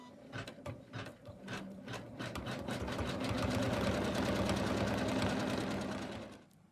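An embroidery machine stitches an outline through wadding on a snowman stocking, a rapid rhythmic needle clatter that speeds up into a steady, close mechanical whir before stopping.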